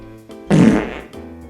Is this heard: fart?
yes